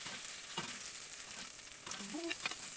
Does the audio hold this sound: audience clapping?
no